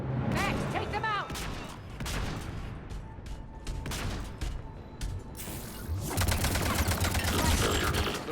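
Bursts of gunfire in the Mass Effect 3 video game, with dense repeated shots and a heavier volley toward the end. A voice talks over the shooting.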